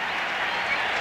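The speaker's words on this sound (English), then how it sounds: "Listen to the crowd. They're in on it now." A baseball stadium crowd at an Astros home game roars steadily in a dense, sustained wash of cheering and applause, loud and continuous with no breaks.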